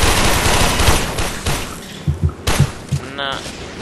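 Gunfire from a weapon in the Warframe video game, several sharp bursts and thudding shots in quick succession, loud and close, with a couple of separate heavier blasts toward the end.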